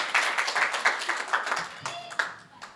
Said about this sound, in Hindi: बजाइए तालियां एक बार जोरदार